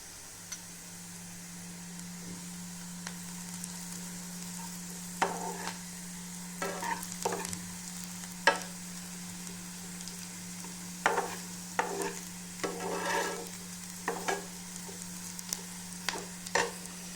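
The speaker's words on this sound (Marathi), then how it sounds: "कांदा झाला आपला परतून" Soft, steady sizzle of onion sautéing in a pan, broken by scattered scraping clicks of a spoon stirring, over a faint constant electrical hum.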